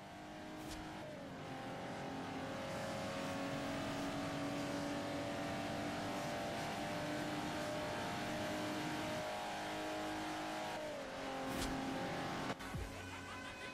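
A sustained high-revving Jaguar XJ220 engine in Forza Horizon 2, droning steadily with gear shifts and a brief tire squeal near the end.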